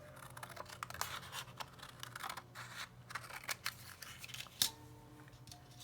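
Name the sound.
scissors trimming cardstock die cut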